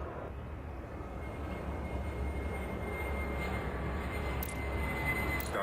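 A jet rumbles steadily on takeoff in the Airport Madness air traffic game, a broad, even engine roar holding at moderate level without a break.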